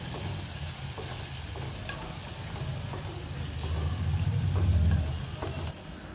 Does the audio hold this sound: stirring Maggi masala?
yes